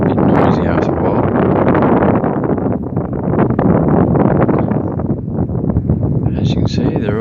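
Wind buffets the microphone by a seaway entrance in a continuous loud, rumbling roar that swells and dips for the whole stretch, with no pause.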